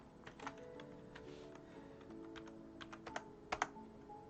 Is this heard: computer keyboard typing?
yes